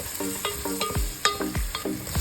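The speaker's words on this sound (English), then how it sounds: "First, saute garlic and onion." Garlic and onion sauté in a pan for beef picadillo, a continuous sizzle punctuated by several sharp, rhythmic utensil scrapes and knocks close by.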